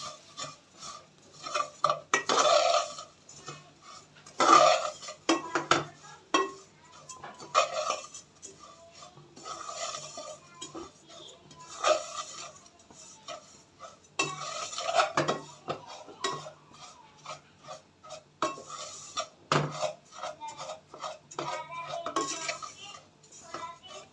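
Sweet vermicelli with sugar is stirred in a metal pot, a spoon scraping and clinking against the sides in repeated bursts of rubbing and tapping, close and moderately loud, with short pauses between strokes.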